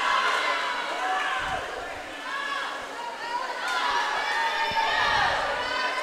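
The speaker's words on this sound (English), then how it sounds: "Her teammates at the end of the pool cheering her on." High school swimming teammates cheer from the end of the pool at a Boone versus West Des Moines Valley meet. Their crowd noise is dense and steady, with shouts rising and falling, and a voice talks over it.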